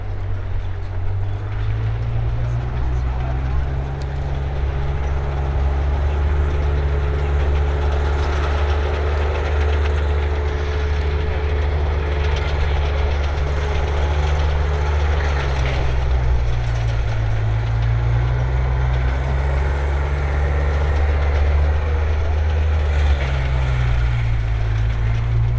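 A World War II Tiger tank from the French tank museum at Saumur runs at a tank festival, its engine a loud, steady low rumble held throughout with slight shifts in pitch, no voices.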